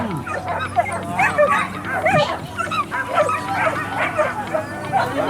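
Dogs at an agility competition bark, yip and whimper in quick repeated bursts, close and fairly loud, while a voice talks over the activity.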